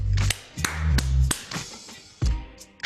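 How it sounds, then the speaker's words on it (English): Hands clap together to signal an ending, a gesture in Arab culture: a handful of sharp, close, irregularly spaced claps with short pauses between them. "Clapping our hands together to simulate the end of something or the emptiness of something."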